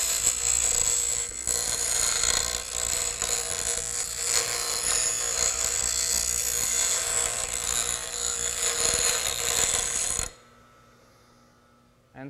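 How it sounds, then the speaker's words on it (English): Pedestal grinder wheel grinding the corner of a metal piece, giving a steady, harsh, high-pitched grinding whine for about ten seconds before stopping abruptly into near silence. "I'm going to lay it on here, and I'm just going to kind of spin it, holding on to it on the grinder"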